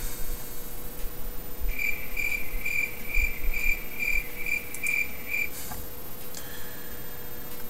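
Crickets chirp as a comedy-night sound effect: a steady string of bright, evenly pulsed chirps runs for about four seconds, fairly clear over a low room hum, then stops.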